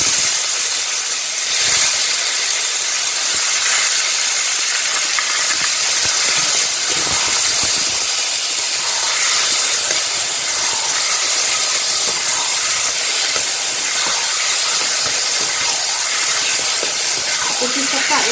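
Boiled taro leaves dropped into hot oil tempered with whole cumin in a pan, giving a loud, continuous sizzle that holds steady the whole time.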